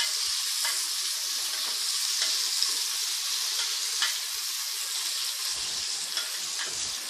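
Chopped onion and green chili sizzle in hot ghee for ghee rice, a close, continuous frying hiss with occasional soft stirring knocks, heard alone without talk.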